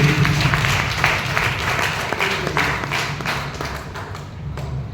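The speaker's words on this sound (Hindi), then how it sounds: "एक बार अपने लिए जोरदार ताली" Loud applause from an audience at a motivational success-stories talk, with sharp individual claps and thumps over a crowd wash that gradually softens.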